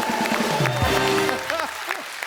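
Studio audience applause on a TV comedy show, brief crowd clapping that fades under musical tones and a short stretch of talk.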